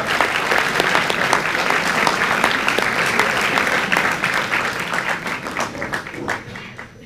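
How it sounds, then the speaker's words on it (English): Loud, sustained applause from an audience welcoming a retired honoree at a teacher-introduction event, dense clapping holding steady for several seconds before tapering slightly at the end. "Please welcome him with a huge round of applause"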